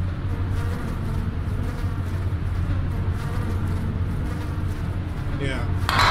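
Tesla bees in the video game Tesla Effect give off a steady low droning buzz that runs throughout, with a voice speaking over it and a brief brighter noise near the end.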